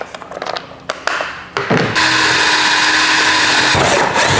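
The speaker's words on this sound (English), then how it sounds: "once I get that first hole drilled" A power drill with a 1/4 inch bit bores a hole through a kayak hatch, a loud steady whine with a grinding edge that runs continuously for about two and a half seconds after some brief handling clicks and short bursts.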